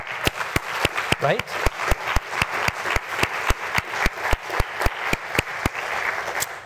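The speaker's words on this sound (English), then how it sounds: "I think that deserves a round of applause." Audience applause: rhythmic, evenly spaced sharp claps, like a clapping pattern, running throughout beneath a speaker talking.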